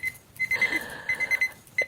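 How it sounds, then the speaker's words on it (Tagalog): A dumbbell alarm clock rings with a rapid series of shrill electronic beeps in quick pulses. The beeps are loud and close, with a short break before a final beep. "dumbbell alarm clock."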